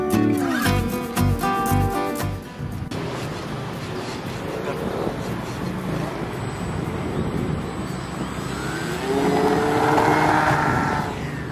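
A scratch-built RC model of a Zenith CH750 plane, flown without slats, revs its electric motor for takeoff with a rising whine and wind noise, louder toward the end.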